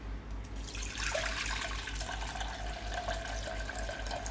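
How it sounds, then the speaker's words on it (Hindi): Soybeans are washed in water to strip their skins, with a close, steady splashing and running-water wash over a few seconds, like a sink being filled. "इसी तरह से हम ज़्यादा पानी डाल के उसको बार बार धोते रहेंगे जब तक कि पूरे छिलके ना उतर जाए।"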